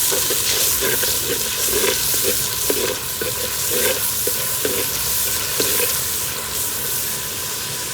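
Ginger garlic paste being stirred into frying mutton paya curry in a pan: a continuous close sizzle under rhythmic scraping strokes of a spoon, repeating about every half second, with no talking.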